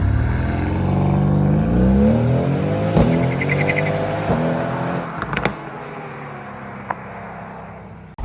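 A Mercedes-AMG GTS launching from 0 to 60 in race mode roars close and loud, its engine note climbing through the gears with brief shift breaks before the revs fade near the end.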